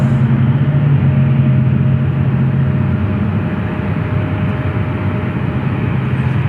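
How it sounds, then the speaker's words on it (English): A United Embraer 175LR jet at Memphis International Airport gives off a loud, steady broadband engine roar with a low hum, close and continuous throughout, with no voices. "That United is an Embraer 175LR. It's headed to Chicago."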